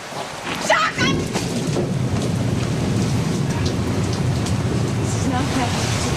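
Heavy rain pours steadily on a rooftop during a night stakeout, a dense, loud, unbroken wash with faint rumbles of thunder beneath.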